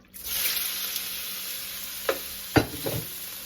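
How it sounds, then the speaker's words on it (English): Scallops and shrimp searing in melted butter in a pan make a steady, close hiss of frying, with a few sharp clinks and taps near the end. "And I'm going to put my scallops and my shrimp in."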